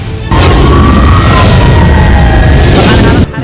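A loud, booming blast from an Israeli airstrike at night in Yemen, with a deep rumbling roar that sustains for about three seconds before cutting off.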